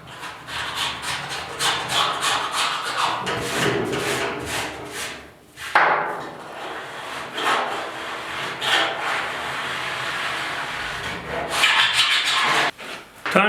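A metal file scrapes rust off the steel bed of a 1972 Ford 4x4 short box, rhythmic close rasping strokes repeating steadily with brief pauses.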